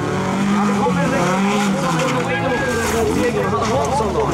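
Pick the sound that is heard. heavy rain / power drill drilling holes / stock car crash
stock car crash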